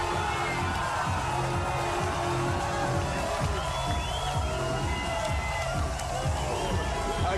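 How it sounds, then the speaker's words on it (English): A large crowd at a fight night in Jakarta roars and cheers continuously after a hometown fighter's submission win, with whoops and shouting rising over a dense, steady wall of noise. "the crowd is going bananas here in Jakarta"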